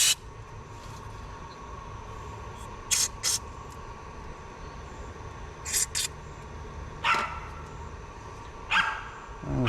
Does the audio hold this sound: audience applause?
no